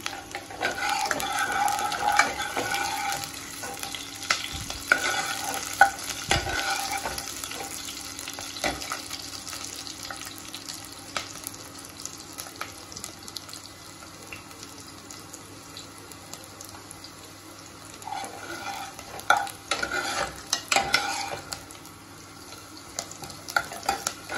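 Food frying in a pan for a home dinner recipe while being stirred, a steady broadband sizzle with scraping stir strokes throughout, close and moderately loud, with no talking.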